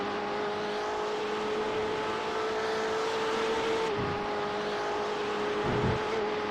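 GT race cars, including the BMW, at Virginia International Raceway, with a steady engine drone and whine at moderate distance, plus a couple of brief swells as cars pass, no talking.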